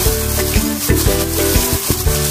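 A grated cassava hash brown mixture is mixed with cornstarch, making a steady, close, wet stirring and squelching with regular strokes about every third of a second, loud and continuous.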